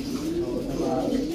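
Pigeons coo in a steady, low, throaty rolling call that carries close and fairly loud through the whole moment, with no other sounds competing.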